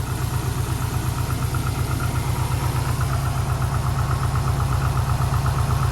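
A new air conditioning compressor on a third-generation Subaru STI runs smoothly with the engine idling, a loud, even, rapidly pulsing hum that holds steady throughout with no rattle and no voices.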